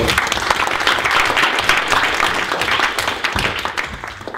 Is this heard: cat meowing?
no